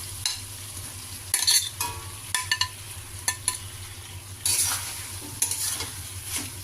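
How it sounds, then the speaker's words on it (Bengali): Jackfruit and fried potatoes being stir-fried in spice paste in a pan, a soft continuous sizzle broken by repeated scraping strokes of a spatula and occasional clinks of metal against the pan. "এখন আমি মশলার সঙ্গে ভালো করে আরো 3-4 মিনিট কষিয়ে নেব।"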